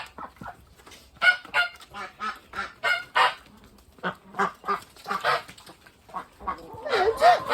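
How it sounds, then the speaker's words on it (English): Ducks giving alarm quacks, a rapid series of loud, close, harsh honking calls in irregular bursts, growing busier toward the end. "What's with all these alarm calls going on here?"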